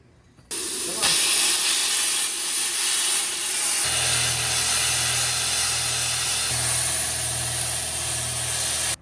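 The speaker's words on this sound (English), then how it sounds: "we're gonna get as far as we can with the plasma" A plasma cutter slicing through metal during fabrication on a vehicle coil bucket mount, starting with a loud steady hissing roar that runs continuously with a low compressor hum joining partway, no voices.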